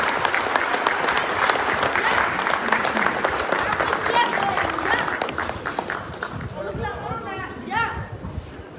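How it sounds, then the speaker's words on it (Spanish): Loud, dense applause and cheering from a crowd at a children's event in the Guerrero sierra, sustained for several seconds and then tapering off under a speaking voice near the end. "Fuerte aplauso, por favor."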